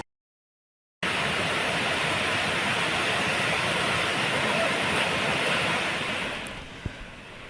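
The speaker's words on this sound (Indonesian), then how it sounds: "Air terjun Bedegung yang terletak di Desa Bedegung, Kecamatan Panang Enim, Kabupaten Muara Enim" Bedegung waterfall in Bedegung village, Muara Enim, roars as a loud continuous broadband rush of falling water that starts abruptly after a second of silence and stays steady throughout.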